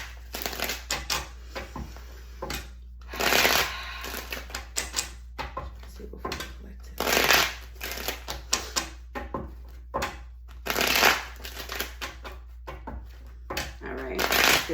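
Tarot cards shuffled by hand in repeated bursts of riffling and flicking with short pauses between them, close and fairly loud, while a voice talks faintly now and then.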